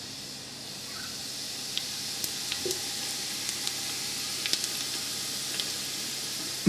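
Cumin, mustard and fennel seeds sizzle in hot oil with a soft, steady hiss, broken by a few tiny scattered pops and crackles. No one speaks.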